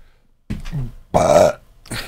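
Someone burps after drinking Jägermeister, letting out several short throaty belches separated by brief pauses, close and fairly loud.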